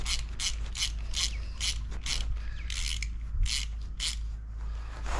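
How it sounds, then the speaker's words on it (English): Ratchet wrench cranking down the two screws on a KTM 1290 Super Adventure S engine cover, a run of sharp, evenly spaced clicking bursts in rapid rhythm, close and clear over a low steady hum, with no talking. "and then crank up the two screws"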